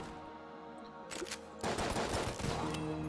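Rapid scattershot flak bullets fire in Enter the Gungeon, a dense crackling burst of game gunfire that thickens after a brief lull and keeps rattling loudly to the end.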